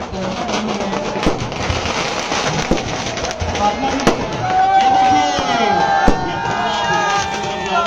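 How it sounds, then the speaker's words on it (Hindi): Crackling fireworks and scattered bangs burst over a noisy crowd at a Dussehra Ravan effigy burning, with people shouting and talking loudly throughout. "और देखिए इस रावण के दहन की जो अग्नि की दाह है,"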